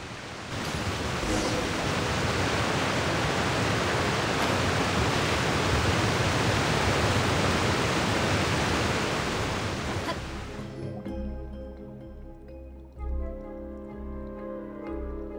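A waterfall in the video game Genshin Impact roars as a loud, steady rush of broadband water noise for about ten seconds, then cuts away to quieter tonal game music.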